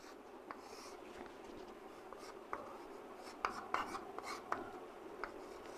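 Chalk or marker strokes scratching across a classroom board during a Hindi maths lesson on functions, quiet rhythmic rubbing taps with a few sharper strokes, close and faint, no talk.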